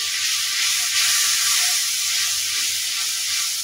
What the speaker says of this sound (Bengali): এই চিংড়িটাকে আমি 1 মিনিটের মতো কষিয়ে নেব।